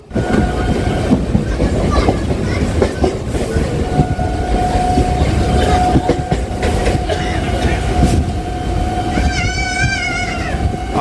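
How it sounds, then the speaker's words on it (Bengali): A train runs along the tracks between stations on the Dum Dum–Majerhat line via Tollygunge, approaching Lake Gardens in Kolkata. A loud, continuous rumble and rattling clatter of wheels and carriages fills the whole stretch, with a wavering horn-like tone near the end. "আমাদের ট্রেন পৌঁছে গেল লেক গার্ডেন স্টেশনে"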